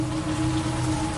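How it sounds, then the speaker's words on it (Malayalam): Heavy rain pours through a forest at night, a dense, steady hiss of drops drumming on leaves and branches, loud and close with no pauses or voices. "മഴ കനത്തതോടെ കാടിന്റെ വന്യത ഇരട്ടിയായി."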